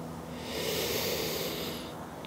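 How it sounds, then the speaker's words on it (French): A single slow, deep breath during a yoga session, a soft airy hiss that swells and fades over about two seconds, heard close and alone with no talking. "Essayez de garder une respiration lente et profonde."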